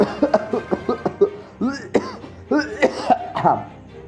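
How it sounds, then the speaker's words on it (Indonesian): Repeated harsh coughs in a rapid series, with a few throaty, voiced bursts mixed in, fairly close and loud. "itu batuk beneran"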